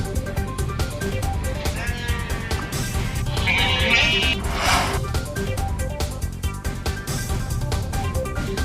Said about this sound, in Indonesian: Ratusan domba telantar di kantor Balai Karantina Bakahuni, Lampung Selatan karena dokumen pengirimannya tidak lengkap.